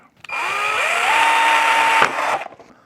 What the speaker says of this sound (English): So let me drill the first hole here.